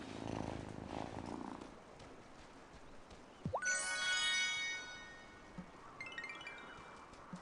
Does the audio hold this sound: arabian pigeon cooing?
no